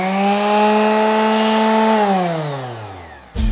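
Quarter-sheet electric orbital sander with a clamped sheet of sandpaper runs with a loud steady whine, then its pitch drops as it spins down before a short clunk at the end.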